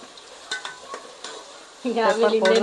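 Egg rice roasts in a pan with chilli powder, light scraping stirs and soft taps giving way to a louder sizzling fry near the end.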